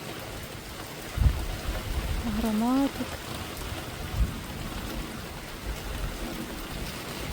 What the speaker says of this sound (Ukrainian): Дощ лє